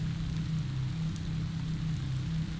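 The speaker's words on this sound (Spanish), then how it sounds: "La lluvia no dejaba de caer." Steady rainfall serves as an effect in a narrated Spanish horror story, a continuous even hiss with a low rumbling undertone that runs without a break.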